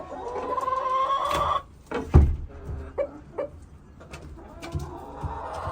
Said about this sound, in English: So, got 2 roosters in here now.